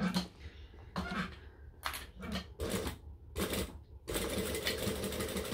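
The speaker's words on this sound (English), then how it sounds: "Sew along, slowly, slowly, slowly, slowly." A sewing machine stitches fabric in repeated bursts of rapid mechanical whirring and clatter. Short pauses separate the first bursts, and a longer steady run follows.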